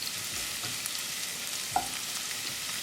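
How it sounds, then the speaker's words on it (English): Ginger and garlic frying in oil in a pan for matar paneer bhurji, a quiet steady sizzle with a few soft stirring taps and one small clink, with no talking. "And I'll bring ginger, garlic, we're going to cook them like 20 seconds."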